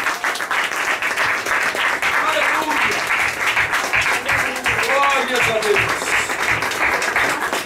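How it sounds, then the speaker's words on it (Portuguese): A church congregation claps loudly and continuously in worship, a dense sustained wall of applause with voices calling out and talking over it throughout. "E aplauda bem forte a Jesus"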